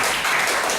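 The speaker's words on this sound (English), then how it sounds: "Ladies and gentlemen, give another big round of applause" Audience applause at a Toastmasters meeting: a brief, dense wash of clapping from a room full of people, steady and fairly loud for under a second.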